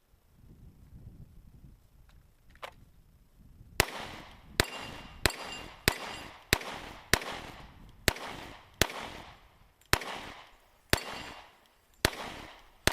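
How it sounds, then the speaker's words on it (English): Glock and Ruger LC9 pistols test-fired at a shooting range, about a dozen sharp shots in a steady rhythm after a quiet opening, each crack trailing off with a brief echo, no talking. "So we're going to test fire all those rounds and magazines and see what, if any, malfunctions we get."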